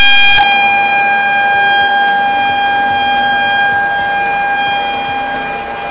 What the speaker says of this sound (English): The Blast puts out 115 decibels of sound. That means it's loud. Very loud.